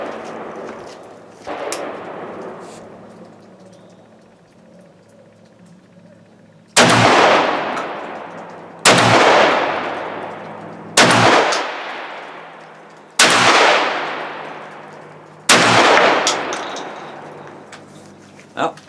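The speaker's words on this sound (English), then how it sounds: "first I'm going to try the Winchester slugs and see how those do." A BA-312 12 gauge semi-automatic shotgun fires Winchester slugs outdoors, five loud booming shots at roughly two-second intervals after an earlier distant report, each with a rolling echo.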